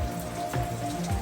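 Rain falling steadily during a squall at Great Guana Cay in the Bahamas, heard from a sheltered boat as a continuous close patter of drops on surfaces.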